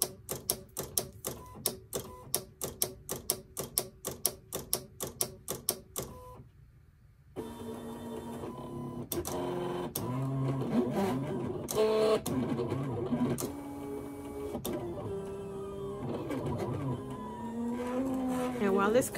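A Silhouette Cameo cutting machine sets its auto blade and cuts heat transfer vinyl: sharp, evenly spaced mechanical clicks for several seconds, a brief pause, then a continuous whirring and scraping of the carriage and blade moving across the sheet.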